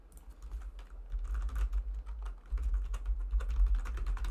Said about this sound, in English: This whole stream is me just clacking away my keyboard, measuring heights